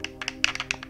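The control stick of a Nintendo GameCube controller is worked back and forth, giving a rapid series of small plastic taps and clicks over about a second, close and distinct.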